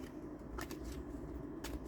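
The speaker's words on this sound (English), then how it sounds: "We're going to do a little quick shuffle." Soft riffling and flicking of tarot cards being shuffled close by, a couple of brief bursts over a quiet, steady background.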